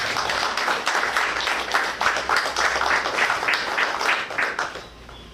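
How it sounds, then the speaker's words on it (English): Mourners at a funeral at Phoenix Park give a round of applause, a lively burst of many hands clapping at close range that carries on steadily before tapering off at the end. "Give them a round of applause."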